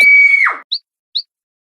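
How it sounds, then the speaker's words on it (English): A cartoon girl's high shrill scream that slides downward and breaks off, followed by two brief squeaky chirps, loud and alone. "Red Riding Hood screamed."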